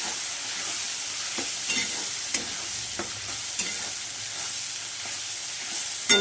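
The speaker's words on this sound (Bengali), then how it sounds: "এবার আমি শুকনো লঙ্কার গুঁড়ো দেব, দিয়ে ভালো করে নাড়াচাড়া করে নেব।" Onion, tomato, ginger-garlic paste and dry chili powder fry in a pan while being stirred, giving a steady hiss of sizzling broken by occasional scraping strokes of the spoon, close and moderately loud.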